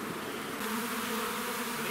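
Honeybees in an open hive, a colony picked up this spring from another beekeeper, hum in a steady, dense buzz that stays loud and even throughout with no voices.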